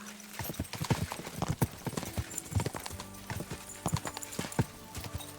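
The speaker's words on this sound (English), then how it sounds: "Get your horses ready." Rapid hooves thud and clatter in a steady galloping rhythm, several horses racing close together over a continuous noisy backdrop, in Kingdom Come: Deliverance II.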